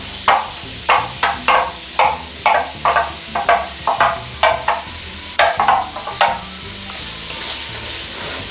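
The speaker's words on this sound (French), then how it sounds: "Dans la même cocotte, je vais faire revenir mes échalotes." Shallots sautéing in a cast-iron pot, a steady sizzle broken by a run of regular scraping stirs, about a dozen sharp strokes that stop near the end and leave only the hiss, close and loud.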